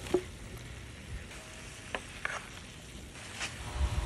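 Tomatoes and other ingredients sauté in a pan for a soup, a soft, low sizzle with occasional light clinks and stirring scrapes, quiet and close, with no talk.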